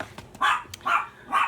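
At home, the family's dogs bark three times in a steady rhythm, fairly close and loud, with no talking between the barks.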